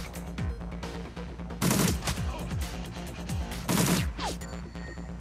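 Two sharp, loud pistol shots about two seconds apart ring out in the Shadowrun Returns video game, each a bright crack with a short tail over steady background game music.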